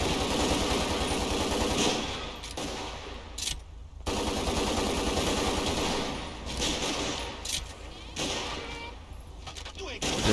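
Sustained automatic gunfire in the video game GTA 5 rattles loudly and almost continuously, with brief pauses, while players talk over it.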